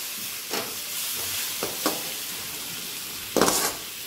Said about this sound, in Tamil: இஞ்சி பூண்டு பேஸ்ட் போட்டு நல்லா வதக்கிக்கலாம்